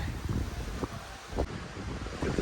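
Wind gusting and buffeting outdoors, a rough, steady rush with a few stronger bursts, fairly loud and close, with no speech.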